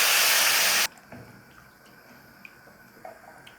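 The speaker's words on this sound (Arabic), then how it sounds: "هنزل بالمية يا دوبك تغطي الرز بس" Water poured into a pot over washed rice in a home kitchen, a steady loud rushing pour that stops abruptly, followed by faint drips and small clinks in a quiet room.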